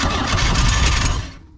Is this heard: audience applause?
no